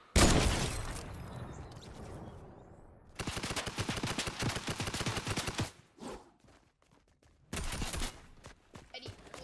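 Bursts of automatic rifle fire from the Fortnite video game, rapid rattling volleys in several separate strings with short pauses between, loud and close.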